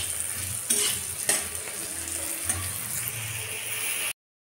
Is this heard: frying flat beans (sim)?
yes